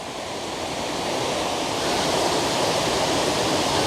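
An autumn waterfall near Karuizawa, Japan, pours with a dense, continuous hiss and roar that swells slightly partway through, with no voices.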